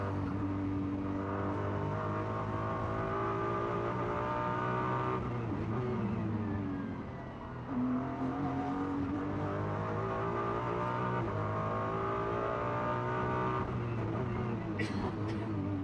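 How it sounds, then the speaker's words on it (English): A Ferrari GT race car in qualifying at the Macau Grand Prix street circuit roars at steady high revs. The pitch drops and climbs as it brakes and accelerates through the corners, and commentary runs underneath. "And the Ferrari down towards Police makes the climb up the other side."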